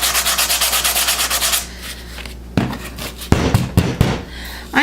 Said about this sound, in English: I forgot to actually sand this. And so I'm gonna do that real quick. So I use it's a fine sandpaper.